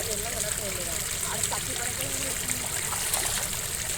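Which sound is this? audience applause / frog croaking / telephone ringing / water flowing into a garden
water flowing into a garden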